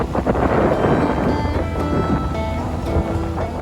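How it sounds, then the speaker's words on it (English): Strong wind at a Florida campsite, a loud continuous broadband rush buffeting the microphone with gusty rumble and no pauses, heard alone for a few seconds. "So is it windy here?"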